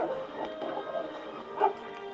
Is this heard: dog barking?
yes